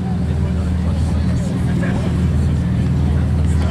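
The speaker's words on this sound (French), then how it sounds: "2 GT2 RS 918 qui arrivent, des GT3" Convoy of Porsche GT2 RS and 918 Spyder supercars arriving at a Cars&Coffee meet in Luxembourg, a steady loud engine rumble with crowd chatter and voices talking over it throughout.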